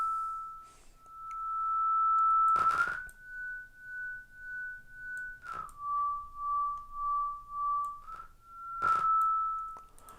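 A pure sine tone passes through a tape delay plugin algorithm, a steady whistle-like pitch that steps between a few levels and pulses rhythmically in volume, with short broadband smears at each change.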